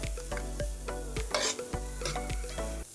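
Grace curry burned in a pan with onions, garlic and ginger in Jamaican style gives a steady close sizzle broken by repeated clinks and scrapes of stirring, with no talk.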